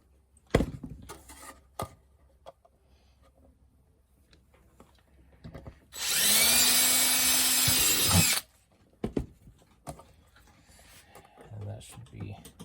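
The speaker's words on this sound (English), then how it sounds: "let's go ahead and drill out these pilot holes" A power drill bores pilot holes during a chest box build, one loud close burst of about two seconds with a whining pitch that shifts, surrounded by quiet handling clicks and knocks.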